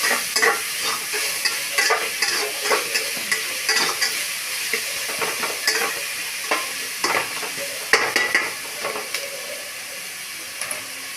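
Onions frying with salt in oil for chicken biryani, a continuous hiss and sizzle broken by frequent scraping and clacking stirs of a spoon against the pot, close up and without talk.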